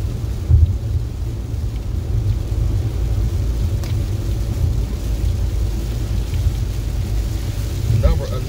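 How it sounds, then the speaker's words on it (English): Heavy rain pours steadily on a gloomy day in Connecticut, a dense continuous low roar with no breaks, close and fairly loud throughout. "Another gloomy day in Connecticut, pouring down, raining."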